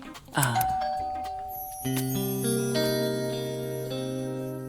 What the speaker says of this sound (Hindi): तो बजा दे घंटी।